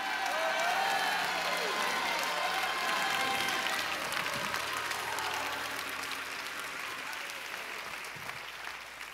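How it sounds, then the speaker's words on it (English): Church congregation clapping hands during a lively service, a dense sustained wave of applause filling the room, strongest at first and slowly fading over several seconds. "clap your hands, all ye people"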